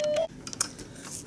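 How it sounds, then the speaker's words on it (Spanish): A telephone gives a brief electronic tone, a short steady beep followed by a few faint chirps and clicks, close by and fairly quiet, with no speech. "Disculpen el teléfono."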